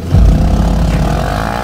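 Lifan KPR 150 motorcycle with a slipping clutch, its engine revving loud and close in one sustained throaty rise that holds steady for a moment.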